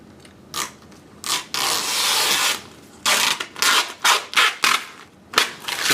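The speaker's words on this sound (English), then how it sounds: "so now we can actually remove the excess film." 3M Knifeless Tape excess film being pulled and peeled away after a cut, giving a sustained tearing rasp followed by a run of short crackly ripping bursts, close and fairly loud with no speech.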